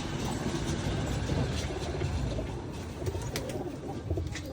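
Pigeons coo softly in a rooftop loft, their calls low and repetitive against constant broadband background noise, with no voices.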